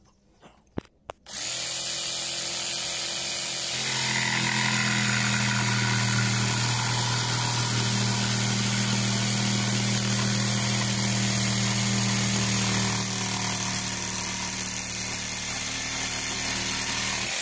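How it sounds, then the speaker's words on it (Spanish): A Lidl Parkside PSTDA 20V cordless jigsaw cuts with the pendulum action switched off, starting after a few clicks and then buzzing loudly and steadily up close, its pitch shifting a little as the blade works. "Vamos a hacer unos pequeños cortes con esta sierra de calar, en principio en modo cero, sin el péndulo."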